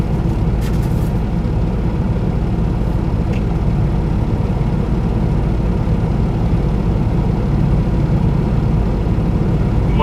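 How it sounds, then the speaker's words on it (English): Loud, constant low rumble inside a moving truck cab, picked up without noise canceling, a steady engine and road drone that fills the whole stretch with no breaks. "so what you're hearing is what the truck sounds like without all the noise canceling."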